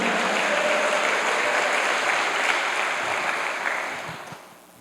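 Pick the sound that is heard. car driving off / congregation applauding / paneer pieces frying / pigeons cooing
congregation applauding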